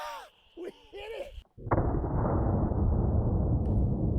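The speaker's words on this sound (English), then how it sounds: "Let's take a shot at that steel target." A single sharp, loud gunshot firing a clay bullet at a steel target outdoors, followed by a long rolling echo; a voice speaks briefly just before the shot.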